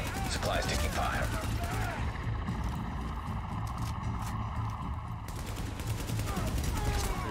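Steady rattling gunfire crackles through a busy firefight in the video game Tom Clancy's The Division, mixed with other combat noise while voices and radio-style announcements talk over it.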